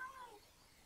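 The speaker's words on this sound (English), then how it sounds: "Kitty cats?" A faint cat meow from an orange cat in Minecraft rises and fades in a single short, quiet call over a low background hum.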